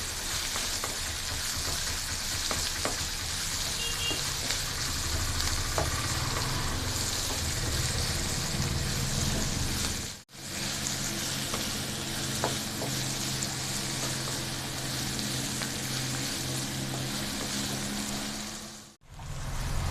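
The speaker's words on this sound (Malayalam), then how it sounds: "ഈ സബോള പെട്ടെന്നൊന്ന് വഴണ്ടി വരാൻ വേണ്ടിയിട്ട് ഞാൻ കുറച്ച് ഉപ്പും കൂടിയും കൂടി ഇട്ട് കൊടുക്കുവാണ്" Onions sautéing with salt in a pan for an onion chammanthi, giving a steady, close sizzle and frying hiss that runs almost continuously, broken by two brief pauses.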